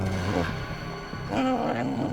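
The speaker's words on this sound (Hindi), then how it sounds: "ये कुत्ता रो रहा है।" A dog cries with a whining, wavering moan inside a house at a crime scene in a police drama, continuous and fairly close for about two seconds.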